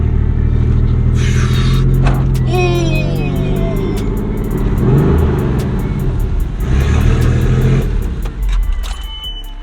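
A Porsche 964 engine runs near and loud with a rough, uneven idle, its rumble rising and dipping with a few throttle blips, while people talk over it.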